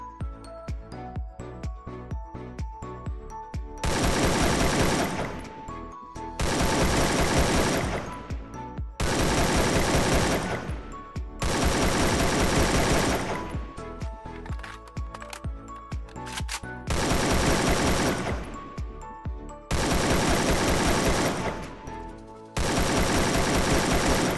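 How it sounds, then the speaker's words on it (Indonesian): Long bursts of rapid automatic gunfire from a high-recoil gun in the video game Free Fire, loud and close, repeat about every three seconds with brief quieter gaps between volleys. "Ini adalah senjata yang mempunyai recoil tinggi."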